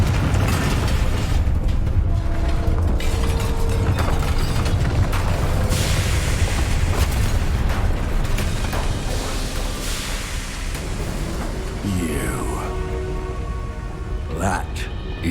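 Confringo spell explosions in Hogwarts Legacy, a dense, loud rumble of booms and crackling blasts that fades slightly toward the end, with voices heard over the combat.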